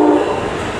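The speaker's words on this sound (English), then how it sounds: "And here comes a train." A train passes nearby, a loud sustained rumble with a brief horn-like tone at the start, steady and close for under a second.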